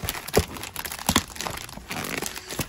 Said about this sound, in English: I'm gonna mess the plastic up because I can't unbox it